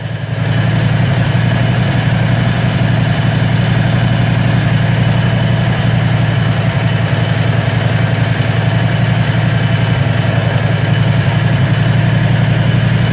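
Predator 670cc V-twin small engine idling after a cold start, a loud, steady, close low throb with even pulsing that holds unchanged for the whole stretch.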